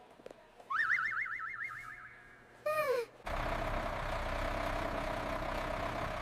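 A fire truck at a school, heard after a warbling tone and quick sliding chirps, then a steady, broad engine rumble with a hissing air-brake release that continues without break.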